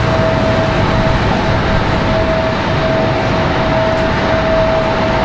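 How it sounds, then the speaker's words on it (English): An Embraer E175 regional jet pushes back at Raleigh-Durham International Airport, giving a loud, continuous engine drone with a steady high whine held throughout and no speech. "E175 pushing back."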